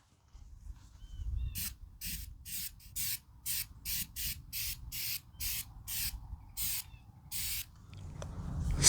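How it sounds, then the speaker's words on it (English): An aerosol can of waterproof sealant sprays onto buckets in a rapid series of short hissing bursts, about a dozen, close by, with low rumbling noise underneath. "Now, let's get back to spraying these buckets."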